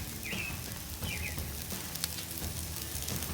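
French fries frying in oil on a Blackstone griddle: a steady, close sizzle with soft crackles throughout and a couple of faint chirpy squeaks early on.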